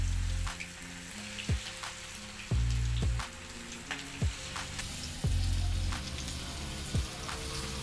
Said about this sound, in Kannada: ಇವಾಗ ಮ್ಯಾರಿನೇಟ್ ಮಾಡಿಟ್ಕೊಂಡಂತಹ ಕಬಾಬ್ ಪೀಸ್ಗಳನ್ನು ಹಾಕ್ಕೊಳ್ತಾ ಇದ್ದೀನಿ.